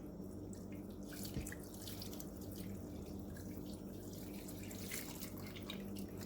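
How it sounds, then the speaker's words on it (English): Hot cocoa water poured slowly over chocolate lava cake batter in a slow cooker, a faint, steady liquid trickle and splash with soft drips and no talking. "We're going to just slowly pour this over the batter."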